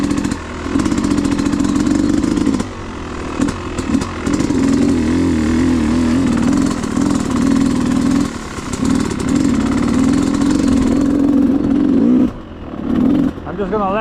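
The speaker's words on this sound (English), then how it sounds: "I'm just gonna let the engine do the talking instead of me." A Yamaha YZ250X two-stroke dirt bike engine runs close and loud, idling and revving in repeated blips with brief dips between throttle bursts.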